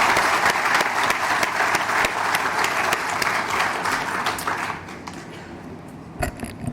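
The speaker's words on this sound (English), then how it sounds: "Could we all give them a round of applause?" A crowd at an annual meeting claps steadily for the fair staff, dense applause that holds for several seconds before thinning out into a few scattered claps at the end.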